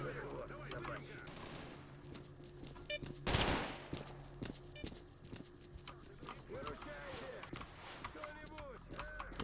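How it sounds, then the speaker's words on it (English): Gunfire crackles in the STALKER Faction War mod, a few scattered shots and a sharp louder burst, fairly faint and mixed with clattering game sounds while someone talks. "Something shot me pretty heavily there."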